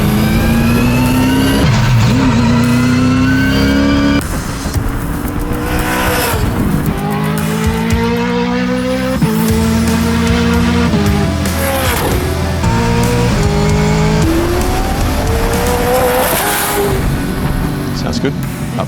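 Gen3 Camaro supercar racing on a track, its engine loud and close, climbing in pitch through each gear and dropping sharply at the upshifts, with tire squeal and a voice talking over the roar.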